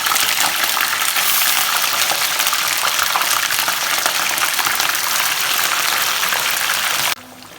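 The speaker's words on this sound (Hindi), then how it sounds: "ऑयल हो गया इस गरम और इसके अंदर ऐड करेंगे मछली को हमें फ्राई करना है।" Fish frying in hot oil, a loud, dense, continuous hiss and crackle up close that cuts off abruptly near the end, leaving only a faint residual sizzle.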